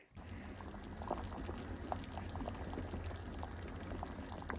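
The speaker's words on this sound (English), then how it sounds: "these are going to get simmered for a while" Pig trotters simmer in a pot of boiling water, giving a steady low bubbling churn with scattered small pops, fairly quiet and continuous throughout.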